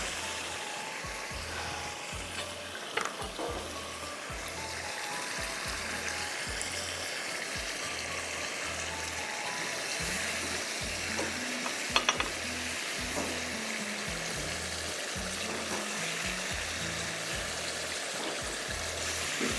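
Fish double-frying in hot oil for a Schezwan sticky fish dish, a steady sizzle and bubbling that runs the whole time, with a few sharper clinks and stirring sounds partway through.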